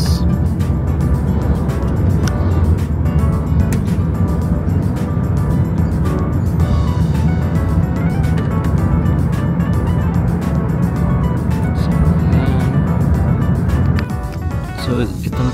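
Busy street traffic in Siem Reap, Cambodia: a loud, continuous roar of many passing cars and motor vehicles, with a voice talking over the din.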